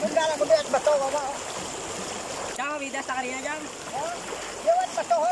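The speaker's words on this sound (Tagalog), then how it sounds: "ang lakas ng tubig" Strong river water rushes steadily underneath excited voices talking and calling out on a mountain trip in Lambunao, with occasional splashing.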